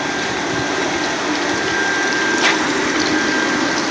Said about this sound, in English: the metering unit, which is metering the pH of the water and injects the flocculant